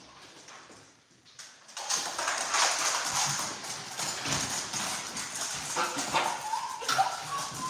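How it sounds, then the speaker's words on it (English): A dog eager to go outside clicks and scrabbles indoors, with quick tapping footfalls and faint whimpering noises rising after a quiet start, close and fairly busy. "Hold on, my dog wanna go outside."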